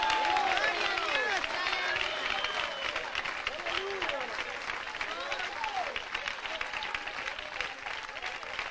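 A congregation applauds during an evangelical church service, a dense, steady wash of clapping that fills the whole stretch, with voices and cheers mixed into the crowd noise.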